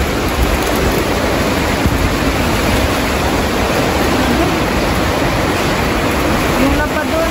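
Strong typhoon wind at signal no. 4 in Benguet, a constant loud roaring rush that fills the whole clip without letup, with no clear speech.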